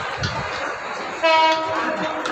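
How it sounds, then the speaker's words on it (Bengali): A train pulls into the airport railway station at night, with a steady rumble of rolling cars and a loud horn blast partway through. "ট্রেন ঢুকে গেছে"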